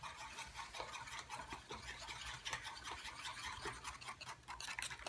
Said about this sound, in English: I'm gonna move over to my smaller whisk